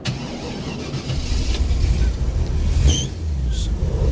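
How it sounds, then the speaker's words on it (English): A 1933 Ford sedan hot rod starting on a cold morning of about 30 degrees, the starter cranking under a steady low rumble before the engine catches and settles into a loud, continuous idle close by. "I'm going to start it up right now"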